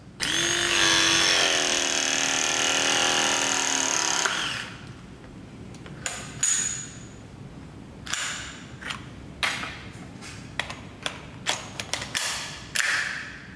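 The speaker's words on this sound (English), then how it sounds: "With a simple swap of the jaws, we can now complete our ProPress connection." A ProPress crimping tool with swapped jaws presses a bronze IPS-to-CTS transition coupling onto pipe, a steady motorized whirr for about four seconds followed by clicks and clatter as the tool is released.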